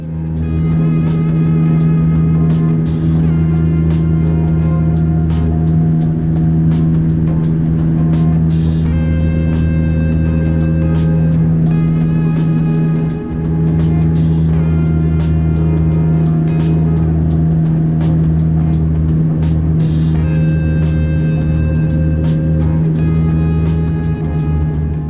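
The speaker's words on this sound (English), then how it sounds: "Now please enjoy this unedited landing." Cabin sound of an airliner landing at Port Moresby: a loud, steady engine and airflow drone fills the whole stretch, with faint repeating clicks and no speech.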